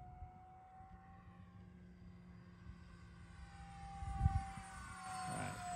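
A twin 40mm Eagle RC jet from Xfly-model flies at half throttle, a steady electric ducted-fan whine with a tonal hum that swells louder as it makes a pass nearby, heard alone without speech.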